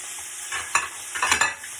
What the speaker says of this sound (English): I got a just yellow onion cut in half. I'm going to toss it in the pan. Let it get a nice sear.